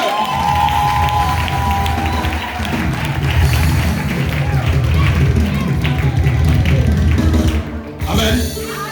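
A church congregation cheers and acclaims the Lord, with loud, sustained crowd noise, rhythmic clapping and shouting voices mixed together throughout, briefly dipping near the end.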